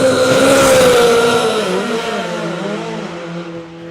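A Top Fuel drag bike launches down the strip at a drag racing nationals event, its engine roaring loud and harsh at first, then fading and dropping away over a few seconds.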